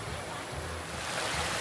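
Cold fresh water flowing in a stream used for bathing and laundry, a steady close rushing wash with no break across the moment.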